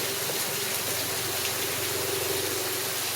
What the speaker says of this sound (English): It's got a drip of rain water right here.